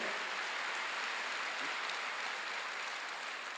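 A church congregation claps together during a Sunday worship service, a steady wash of many hands that holds at an even, moderately quiet level throughout with no voices above it.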